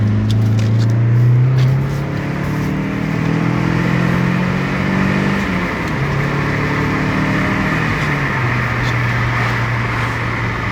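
An MG ZR 120 hums along from inside the cabin, its engine and exhaust holding a steady, loud drone that rises and falls with gear changes, with road noise underneath.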